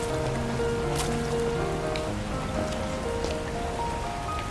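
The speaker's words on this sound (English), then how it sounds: "the chance to get drenched in rain is rare" Steady rain patters on a surface in a video game, a constant wash of drops, with soft tonal music notes drifting underneath.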